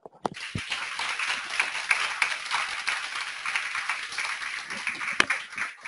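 Sustained audience applause following a university changemakers talk in Minneapolis, dense clapping from a sizable crowd holding steady throughout with a few sharper individual claps standing out.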